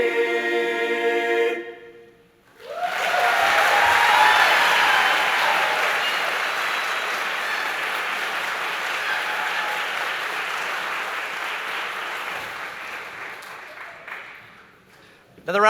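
Sustained audience applause at a high school spring concert following a choir song, starting after a brief pause and holding steady, broad and full before tapering off near the end.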